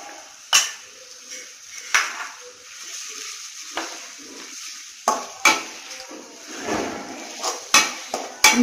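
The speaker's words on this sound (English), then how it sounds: "And stir it." Egg fried rice with ginger and garlic is stirred in a hot pan, sharp spatula scrapes and clinks recurring every second or so over a soft sizzle.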